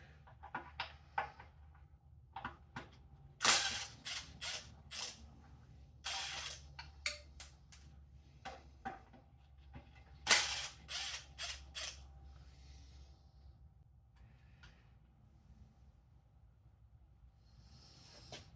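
A 12 mm wrench works alternator bracket bolts loose during a teardown of a Toyota 7M-GTE engine, giving irregular ratcheting clicks and metallic clanks in short clusters, close and fairly quiet, with no speech.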